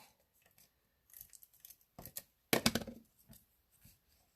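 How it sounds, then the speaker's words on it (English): Scissors snip the ends off a ribbon for a handmade paper card: quiet, scattered clicks, then a louder cluster of close, crisp cuts near the middle. "Trim the ends off of the ribbon."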